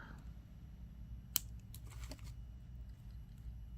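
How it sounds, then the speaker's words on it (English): Scissors give a single quick, crisp snip while trimming excess string from a handmade pink blossom bead necklace, with a few soft handling rustles afterward in an otherwise quiet room. "we'll pull our string up and cut the excess off"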